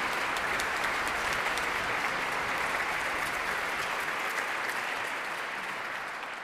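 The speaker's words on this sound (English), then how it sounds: "a round of applause" An audience at the Australian Singing Competition finals concert applauds in a hall, a thick, even wash of clapping from a large crowd that holds steady and fades slightly at the close.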